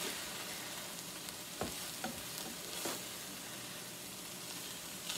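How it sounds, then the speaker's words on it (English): Taco pasta mixture being stirred in a pan, a steady soft sizzle with a few scraping spoon knocks and clicks spread through, fairly quiet and with no talking. "And I'm gonna mix it all up."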